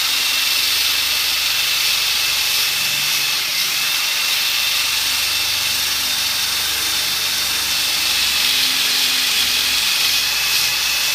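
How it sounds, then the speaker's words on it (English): A steady, high-pitched abrasive whir of a medium 3M sanding wheel grinding against a metal lockdown bar, loud and continuous with no speech. "I'm going to try sanding them out with this this medium 3M wheel"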